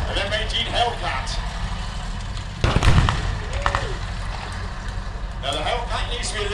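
WW2 tanks, including a Sherman with the long 76 mm gun and an M18 Hellcat, fire during a Tankfest 2023 battle display. A sharp blast cuts through rumbling engines while a commentator talks throughout.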